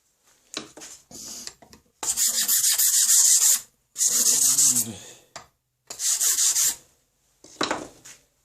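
A file is drawn along a steel octagon rifle barrel for a scratch-built swivel breech rifle in several separate, close rasping strokes of about a second each, with pauses between and no talk.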